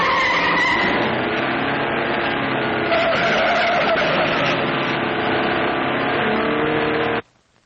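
A car roars off with tires skidding and squealing, loud and continuous for about seven seconds before cutting off abruptly into silence.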